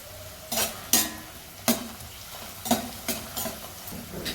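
Tomatoes and a bay leaf frying in a pan for a vegetarian biryani, stirred with a spoon in about eight quick scraping strokes over a soft, constant sizzle.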